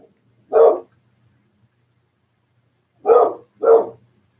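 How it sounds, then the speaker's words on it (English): A puppy barks indoors, three short sharp barks with a long pause after the first and the last two close together, fairly near and alone without talk. "You hear my vicious puppy in the background."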